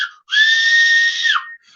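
A single long, loud steam locomotive whistle blast, steady and piercing, holding for about a second before dropping off, clear against a silent background.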